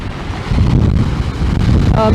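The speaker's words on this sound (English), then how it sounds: "Oh, just got splashed by a wave. Oh, that's a big one." Wind-driven waves splash and surge against the Lake Erie shoreline in winter, a loud, continuous roar with heavy wind buffeting the microphone up close.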